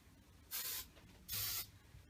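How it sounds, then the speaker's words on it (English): Hairspray misted onto hair while braiding and styling a cheer poof: two short, close, hissing sprays about a second apart against a quiet room. "And take your hairspray."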